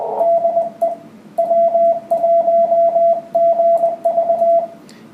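Morse code call sign keyed on the 14 MHz amateur radio band: a single steady, clear tone pulsing in repeated groups of short and long beeps with brief gaps, over a faint hiss of background noise.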